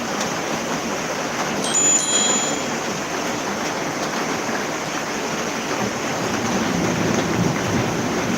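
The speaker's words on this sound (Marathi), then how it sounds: "चमकतात आहेत विजा पाऊस वादळ वारा" Heavy rain pours steadily in Titwala during a thunderstorm, a dense continuous roar with no distinct thunderclap standing out, loud and close throughout.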